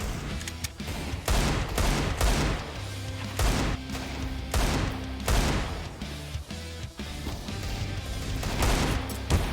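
Repeated bursts of rifle gunfire in Counter-Strike on the Inferno map during a professional match, loud close volleys and rapid sprays spread across the stretch, with brief gaps between bursts.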